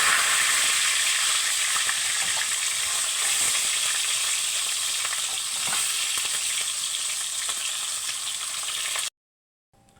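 Galunggong fish frying in hot oil makes a continuous bright sizzle with occasional crackles and pops, steady and close, then cuts off abruptly near the end.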